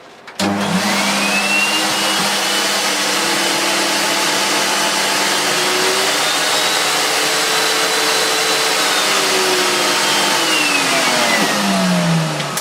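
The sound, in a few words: Dirt Devil DD6102 vacuum cleaner running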